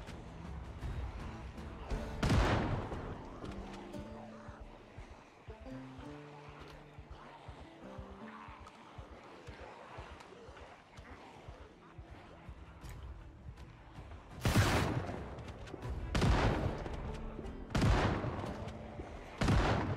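Shotgun blasts in the zombie survival game Project Zomboid, a loud broadband boom early on, then three more sharp reports later, over game ambience and a voice talking.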